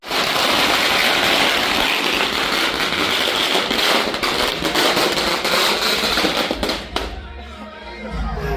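Firecrackers go off at a Shivaji Maharaj Jayanti celebration in a dense, continuous crackling barrage, loud and close, easing toward the end with scattered pops while voices sound in the background.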